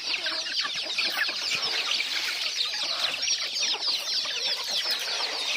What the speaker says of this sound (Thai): ไก่เต็มเลย